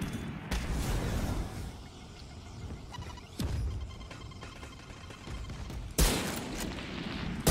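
Sustained bursts of rapid gunfire from the video game Valorant, loud and dense with brief pauses between volleys, ending in a sharp crack; no talking.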